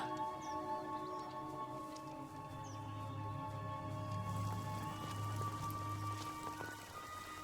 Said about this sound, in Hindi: ये बारिश भी नहीं रुकती।